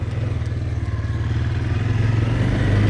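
An ATV four-wheeler engine idles steadily up close, a low throbbing rumble with a faint clattering rhythm that holds even and continuous throughout, with no talk over it.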